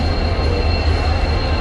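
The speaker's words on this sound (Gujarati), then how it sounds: "આ ટ્રેન આવી કાલુપુર રેલવે સ્ટેશન" A train pulling into Kalupur railway station, a loud, steady rumble of wheels on rails with a constant metallic squeal running through it, very close.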